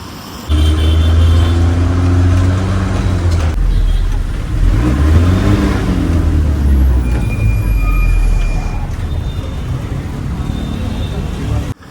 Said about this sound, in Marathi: कोणती तरी बस येते फोर सिक्स्टी नाईन आली